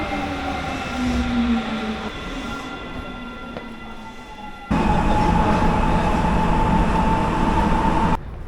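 A Sapporo subway train rumbles along from inside the carriage with a steady low roar and faint tonal whine, then grows noticeably louder midway as it speeds up, with a brief drop at the very end.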